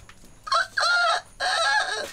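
A human voice imitates a rooster crowing, a loud two-part cock-a-doodle-doo delivered up close with a brief pause in the middle.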